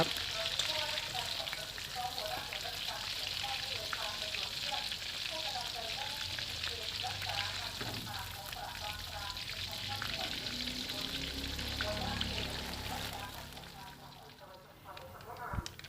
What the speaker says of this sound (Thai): ทอดพอสุกเท่านั้นนะครับไม่ต้องทอดมาก เดี๋ยวกุ้งจะแข็งนะครับ